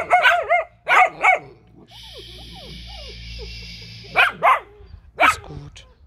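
Young puppies just let outside bark and yip excitedly in short, close bursts, with pauses of quieter whimpering between the barks.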